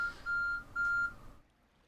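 Timer beep in the Kubifaktorium building game: two steady electronic tones, each about a third of a second, separated by a short gap, loud and clear over a low game background that fades to near silence.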